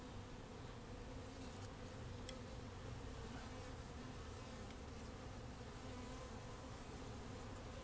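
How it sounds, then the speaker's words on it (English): Honeybees buzz steadily throughout a hive inspection, a dense, continuous drone from many insects close by, with no talking. "Now, these bees are starting to get upset."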